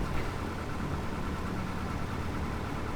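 The steady, droning piston engine of an A2A Cessna 172 taxiing in the Prepar3D flight simulator, a continuous low, even hum heard from the cockpit, close and unchanging, with no talking.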